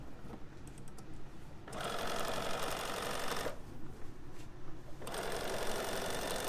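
A sewing machine stitches fabric for a zippered bag, running in two loud, close, rapid rattling bursts separated by a brief pause.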